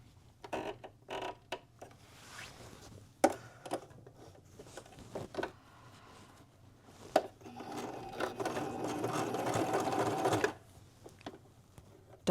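A sewing machine quilts loose batting for a loon bag: short stuttering runs and clicks early on, then one steady burst of stitching lasting a few seconds, fairly quiet and close.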